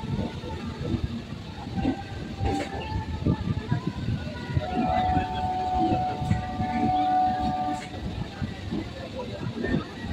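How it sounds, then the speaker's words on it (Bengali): A Kolkata local train pulls slowly out of a station on a gentle curve, with a rolling rumble, clattering wheels and a sustained wheel squeal, while voices are heard on board. "আমাদের ট্রেনটা কি সুন্দর হালকা বাঁক নিয়ে ধীরে ধীরে স্টেশন থেকে বেরিয়ে যাচ্ছে"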